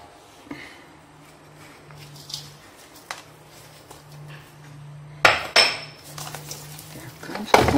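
Chicken rubbed with lemon and salt in a bowl makes faint wet rubbing with scattered clinks, then louder clattering knocks of metal and bowl near the end.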